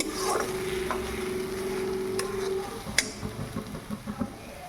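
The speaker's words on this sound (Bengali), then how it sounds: "তারপরে দেখো আমরা পেঁয়াজটা দিয়ে দিয়েছি, একটা শুকনো লঙ্কা ফোড়নে দিয়েছি।" Onion and a dried red chilli frying in hot oil, a close steady sizzle with stirring scrapes and light taps of a spatula against the pan toward the end.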